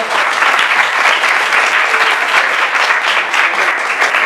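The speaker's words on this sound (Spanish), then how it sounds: "un aplauso para todos" Sustained applause from a large audience, dense and steady throughout, loud and close with no pauses or voices standing out.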